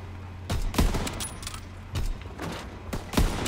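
Gunfire in the World War II shooter game Call of Duty WWII, with several loud, sharp shots and short bursts spaced through the clip over a low battlefield rumble.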